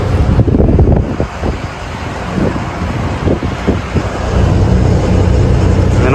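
Cool evening wind buffets the microphone steadily while riding in a vehicle near Sivakasi, a loud continuous rushing roar with road noise underneath and no talk.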